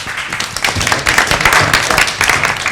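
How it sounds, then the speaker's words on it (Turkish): An audience claps warmly for young basketball players, a loud, uneven burst of many hands with some distinct individual claps standing out, building slightly and continuing throughout. "Gabbaster minik öğrencileri ve gençlerini bir alkışlayalım tekrar."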